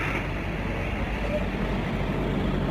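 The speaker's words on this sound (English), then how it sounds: "it's really noisy and busy. We run out of the way of this truck." Busy city street traffic on a walk, a constant loud roar of engines and tyres as a truck passes close by, with no break in the noise.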